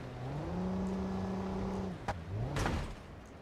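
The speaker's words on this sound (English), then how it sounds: "Those are some nice overrev popping sounds" A car engine in the BeamNG driving game holds a steady high rev before cutting off, followed by a sharp pop and a short crackling exhaust burst as the revs drop.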